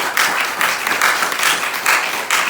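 A church congregation claps and cheers in a steady, loud wash of applause filling the hall.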